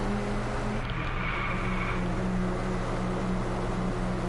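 Engine of a Nissan R35 in the racing video game Driveclub: a steady, continuous low drone with a constant rumbling tone throughout, no voices.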